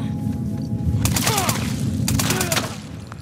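Silenced SMG fire in The Last of Us Part II Remastered's roguelike survival mode: several quick bursts of muffled shots over a steady low rumble, with a voice talking in between.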